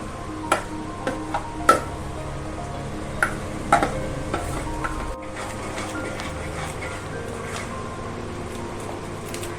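A spoon stirs a semolina and coconut mixture into sugar syrup for coconut burfi, giving scattered sharp metallic clinks and ticks against the pan over a low, steady background.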